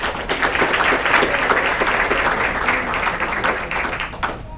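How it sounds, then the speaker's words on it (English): An audience at a community YMCA education celebration breaks into steady applause, a dense wash of clapping that stays loud throughout and fades slightly at the end. "Let's give Carrie a round of applause."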